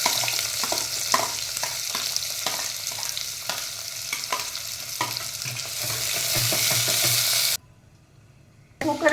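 Onion frying in a pressure cooker with bay leaf, two cloves, cinnamon and star anise for a dhaba-style chana dal, a steady close sizzle with repeated spoon stirring that cuts off near the end, no talking.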